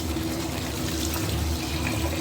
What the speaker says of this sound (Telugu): ఇవి ఒకసారి 3 times వాష్ చేద్దామండి